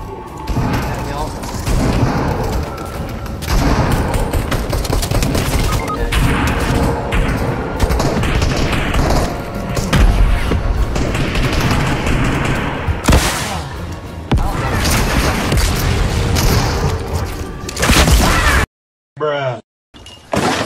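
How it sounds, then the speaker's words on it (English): Dense, chaotic video game combat in Fortnite with rocket launcher explosions, booming blasts and rapid gunfire layered loudly throughout, cutting out abruptly near the end. "that ghost henchman acted like a rocket launcher"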